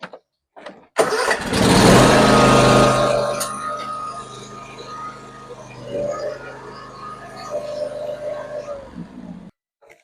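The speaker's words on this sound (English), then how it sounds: "go up to the tractor, start it back up." A John Deere X370 lawn tractor's small engine cranks and catches, roaring loudly at first, then settles into a steady idle that runs close by for several seconds.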